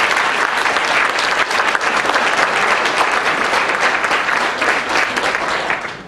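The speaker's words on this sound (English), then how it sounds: "So let's give an overall hand of applause for our young people." A room full of people gives loud, sustained applause for young people at a public event, dense continuous clapping that holds steady throughout and fades slightly at the end.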